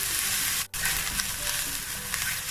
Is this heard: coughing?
no